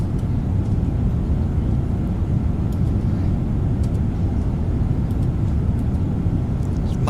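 Inside a Boeing 777-200 airliner cruising over Greenland at Mach 0.85, the cabin carries a constant deep, broadband roar of engine and airflow, steady and enveloping, with faint occasional clicks.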